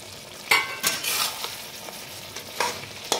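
Potatoes land in a hot pan with fried rice makings and sizzle while a spatula stirs them, producing a few sharp scrapes and hisses in quick bursts, close and fairly loud.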